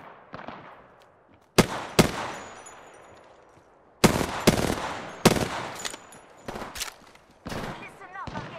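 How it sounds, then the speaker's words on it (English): Gunfire in the battle royale game Apex Legends, sharp bursts of shots in irregular volleys and single cracks, loud and close, with quieter gameplay ambience between the bursts. "Listen up, I'm getting shot at."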